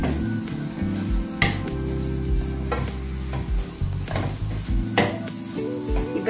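Sri Lankan-style tinned fish frying in cooking oil, a close, steady sizzle broken by repeated spoon-stirring scrapes and clinks against the pan, with a low hum underneath and no speech.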